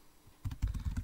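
Rapid typing on a computer keyboard starts after a short quiet moment, a close, dense run of clicky keystrokes with no talking over it.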